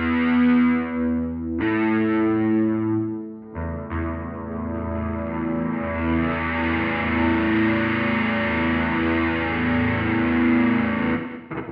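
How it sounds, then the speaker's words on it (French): Heavily distorted, sustained chord from an instrument run through a Pédale Vite effects pedal, the distortion level being adjusted; a thick buzzing tone rings continuously and loud, briefly cutting out and restarting twice before swelling steadily. "Là, c'est le niveau de distorsion."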